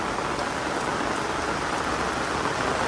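Heavy rain pours down steadily at the grave site of NSUT Vu Linh, a dense, even hiss that stays constant and close from start to finish with no voices.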